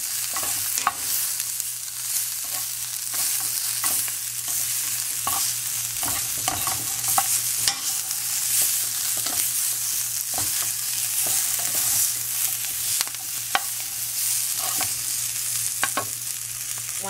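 Green beans sauté in hot oil in a pan, a continuous loud sizzle broken by frequent sharp clicks and scrapes from stirring, with no talking.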